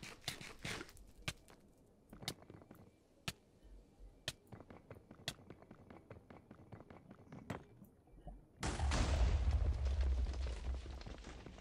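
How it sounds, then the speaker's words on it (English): Explosions in Minecraft game play in the Nether: a series of sharp pops and thuds spaced irregularly, then a loud sustained roaring burst near the end. "More random explosions."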